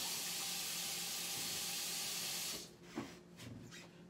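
A kitchen faucet running for washing dishes, a loud steady hissing rush of water that cuts off partway through, followed by a few faint clatters.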